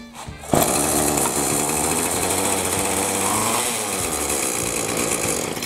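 Craftsman mini tiller small engine starts after a recoil rope pull, catching abruptly and then running at a steady high-pitched buzzing idle, loud and close.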